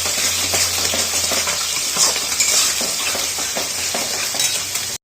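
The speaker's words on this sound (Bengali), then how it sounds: "মটরশুঁটি আর ক্যাপসিকামটাকেও দিয়ে দেবো। দিয়ে আর একটু কষিয়ে নেবো ভালো করে।" Potato curry with yogurt, peas and capsicum sizzles steadily in a pan while a spoon stirs and scrapes in a regular rhythm, close and continuous.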